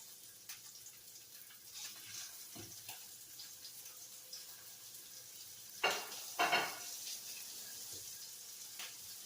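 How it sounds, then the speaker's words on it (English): Pork chops seasoned with garlic, salt, pepper and paprika hiss and sizzle steadily in a hot pan, with a few louder bursts of crackling partway through. "You just want to lay the pork chops in there."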